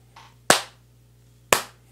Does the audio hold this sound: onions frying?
no